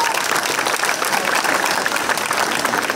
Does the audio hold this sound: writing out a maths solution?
no